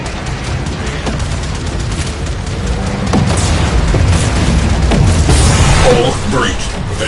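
Torpedoes fire and detonate in Warframe as a dense, rumbling barrage of booms and bursts that builds louder through the middle, with voices over the top.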